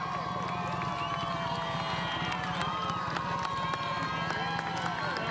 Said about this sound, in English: Everybody cheering.